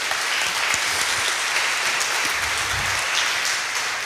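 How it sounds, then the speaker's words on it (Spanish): Crowd at a Fuxion business event in Lima applauding, a sustained, even roar of many hands clapping together, steady in loudness throughout with no pauses. "quiero que te des un fuerte aplauso y declares que vas por el siguiente nivel."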